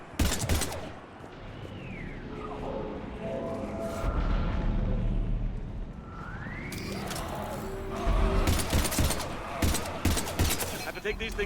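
Heavy gunfire in a battle in the video game Mass Effect 3, dense bursts and crashing impacts over a rumbling low roar, with swooping effects and loud clustered shots near the end.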